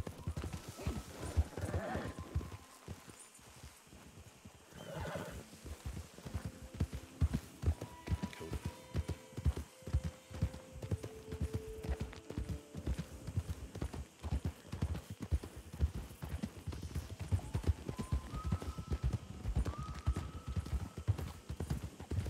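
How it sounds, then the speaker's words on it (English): Horse hooves clip-clopping steadily in Red Dead Redemption 2, a continuous rhythmic trot on hard ground heard up close at low volume, with a brief whinny near the start and faint tonal game sounds underneath. "Is there a horse just sitting there on the tracks?"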